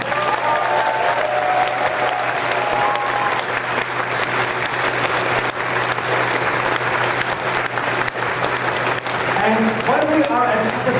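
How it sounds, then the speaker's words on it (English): An audience at a furry convention puppet show applauds the puppet builder, loud sustained clapping from a large crowd, with a voice speaking over it now and then. "So big round of applause for our puppet builder."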